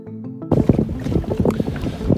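A sailing boat's electric outboard motor runs in the Balearic Islands: a brief low hum, then loud, irregular bursts of water and wind noise close by.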